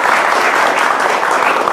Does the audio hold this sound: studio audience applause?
yes